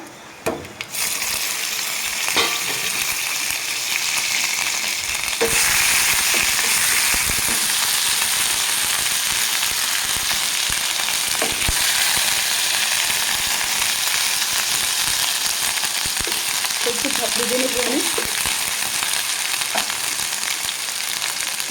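Panch phoron spices and ginger-garlic paste frying in hot oil in a pan for achari begun, a loud steady sizzle swelling after a few seconds and continuing, with occasional spoon knocks and scrapes.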